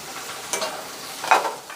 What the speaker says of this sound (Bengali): এবারে দিয়ে দেবো কেটে রাখা টমেটোটা।